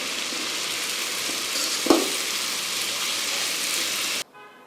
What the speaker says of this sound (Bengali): আমি ডিমটা ভাজতে ভাজতে আর দুটো রুটি আমার একটু সেঁকে দিস